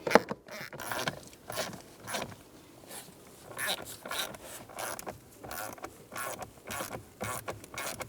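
A hand ratchet snugs down the blower motor bolts on a 2000-2006 Toyota Tundra, giving quick clicking runs with pauses between them, close and soft, mixed with rustling handling noise.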